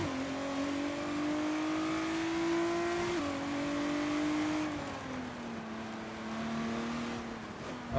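A Formula 1 race car in F1 22 brakes hard on a wet track at Imola, its loud engine note sliding steadily downward in pitch as revs drop over several seconds, up close and without any talk.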